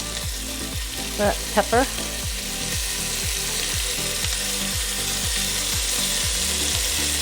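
Steak frying in a single pan for a quick stir fry, a steady dense sizzle running throughout with a regular rhythmic scraping or stirring pattern, a brief spoken word breaking in near the start.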